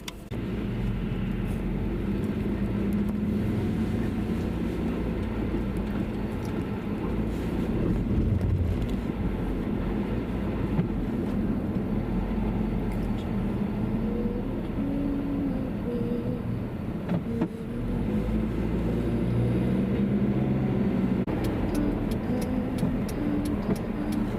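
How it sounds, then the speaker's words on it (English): A car driving through downtown gives a steady low interior road rumble and engine hum, continuous and even throughout, with no talking. "so we're still driving through downtown just trying to get home"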